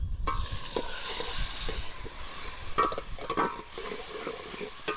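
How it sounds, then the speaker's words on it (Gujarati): Onion, green chillies and tomato are stirred in hot oil with curry leaves and asafoetida for Kathiyawadi dal dhokli, a steady close sizzle broken by repeated scraping spoon strokes against the pan. "ડુંગળી, લીલા મરચાં મિક્સ કરી દઈશું।"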